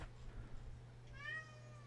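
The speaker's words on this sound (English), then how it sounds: "As my cat's looking for him too, as he yells in the background." A house cat yowls in the background, one faint drawn-out meow over a steady low electrical hum.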